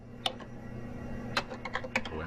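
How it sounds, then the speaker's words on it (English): Keystrokes on a computer keyboard: a handful of crisp, separate clicks spread unevenly over a couple of seconds, with a steady low hum underneath. "I bet that keyboard sounds good as hell in person."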